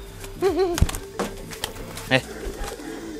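Kolong pigeons coo in a couple of soft, wavering bursts, close by, with a voice talking over them and some background clatter.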